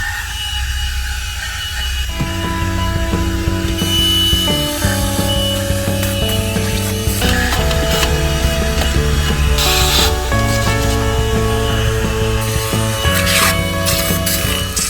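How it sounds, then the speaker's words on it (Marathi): A small portable vacuum cleaner whirs steadily inside a Mazda car, with a droning, tonal motor hum that shifts pitch as it moves, running continuously without any voices. "आपण चालू केलेली आहे पोर्टेबल व्हॅक्युम क्लीनर"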